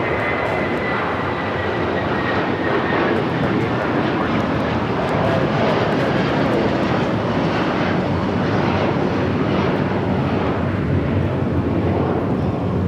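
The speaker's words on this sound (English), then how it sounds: "2728 taking off to Newark on the 757-300." A Boeing 757-300 jet airliner takes off at Los Angeles International Airport, its engines giving a loud, steady roar that holds for the whole stretch with no voices over it.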